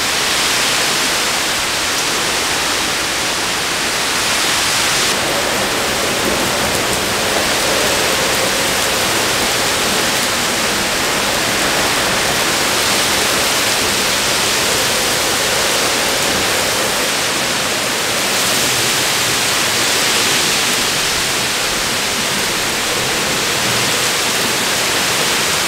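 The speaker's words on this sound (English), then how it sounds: "Oh, here comes the rain." Heavy rain during a summer storm, a dense, constant hiss of falling water, loud and unbroken throughout with no voices.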